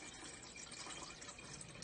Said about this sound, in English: I put water in the tea kettle.